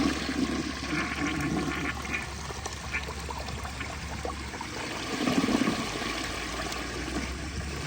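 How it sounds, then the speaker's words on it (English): A 1963 Standard Compton toilet flushes with a dry bowl, giving a steady close rush and gurgle of water that swells slightly midway and continues throughout with no voices. "I thought it would be cool to start with a dry bowl flush"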